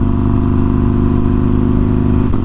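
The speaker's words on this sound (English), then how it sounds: "It is way louder behind the bike than it is like right on top of it." A loud, steady Harley-Davidson Forty-Eight motorcycle with tuned aftermarket intake and exhaust rumbling at idle with a deep, throaty pulse throughout, close by and continuous.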